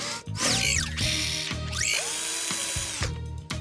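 Cartoon ratchet tool effect from a children's animated rescue show, with rising and falling whirring sweeps and mechanical clicking that run loud and continuous for a few seconds against a music bed.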